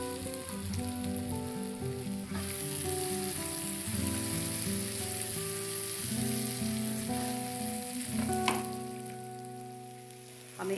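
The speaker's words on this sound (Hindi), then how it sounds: "हमें इस मसाले को तब तक भूनना है" Masala of red chilli powder and turmeric with pea paste sizzles steadily in a pan, a constant hiss over background music with a few faint stirring clinks.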